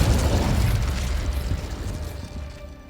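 A fiery spell blast from the Hogwarts Legacy video game erupts at once, a loud broad boom that rolls and crackles for a few seconds before slowly fading, with no voices over it.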